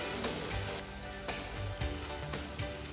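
Ginger garlic paste fries in a hot pan for an aloo tamatar curry, a dense, continuous close sizzle and crackle with occasional stirring scrapes and no talking.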